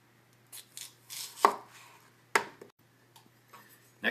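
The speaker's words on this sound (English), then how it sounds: "Next we're going to dice half of an English cucumber." A knife dices half of an English cucumber on a cutting board, giving scattered crisp chopping taps of varying strength, a few louder strikes standing out against near silence.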